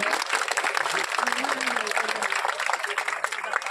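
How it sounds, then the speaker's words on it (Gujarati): An audience at a Ram temple consecration festival in Vijarkhi claps to welcome an honoree: a continuous patter of hands, moderately loud, mixed with a speaking voice over the top. "તાળીઓથી વધાવો."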